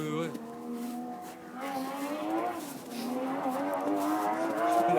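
A Porsche 996 GT3 rally car on a tarmac stage at the Rallye du Touquet 2013 drives past with a sustained, rising engine note that swells over several seconds, heard at a moderate distance.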